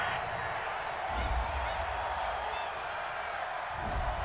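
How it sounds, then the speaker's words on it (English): A football stadium crowd reacts to a penalty call during an NFL game between the Philadelphia Eagles and Houston Texans, a broad steady roar and murmur of disapproval from thousands of fans, heard from a distance. "Well, this crowd does not like that call."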